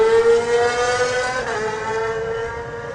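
A supersport racing motorcycle at the Isle of Man TT screams away from the start, its engine note loud and high-revving, rising in pitch, with no voices over it.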